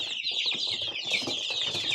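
Many 22-day-old Leghorn chicks cheep and cluck together in a close, busy chorus of high peeping calls, continuous throughout.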